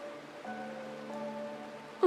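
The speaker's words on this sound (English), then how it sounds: "This is the sound of rain." Steady, soft rain falls throughout this Honkai: Star Rail game scene as a continuous, even hiss, with sustained mellow musical tones held above it and a sudden louder burst right at the end.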